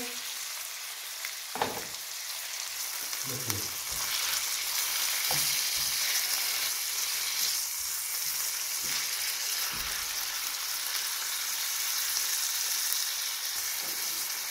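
Chicken breast fries with garlic and onion, a steady hiss of sizzling with a few stirring knocks and scrapes early on, and no voices.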